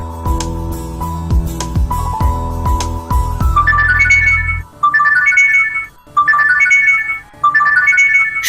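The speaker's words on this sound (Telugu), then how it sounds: "ఫోన్ వస్తుంది, ఊరుకోండి" A phone ringtone plays loudly, a dense tonal melody that shifts into a repeating chime pattern with short gaps between phrases.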